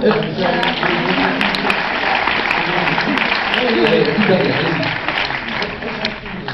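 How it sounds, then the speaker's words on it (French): An audience at a UGC cinema in Lille applauds after a screening, steady dense clapping that carries on for several seconds, loud and close, with some voices mixed in. "On peut les applaudir."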